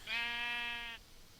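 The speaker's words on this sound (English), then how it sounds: "look at the sheep!" A sheep in a video game gives a single clear bleat, about a second long, fairly faint, with no talk over it.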